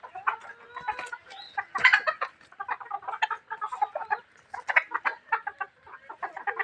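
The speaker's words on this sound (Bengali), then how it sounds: "আমার মুরগিগুলা দেখেন কতটা সুস্থ সবল" Native desi hens kept for eggs during winter cluck steadily in close, busy overlapping bursts, with no talk over them.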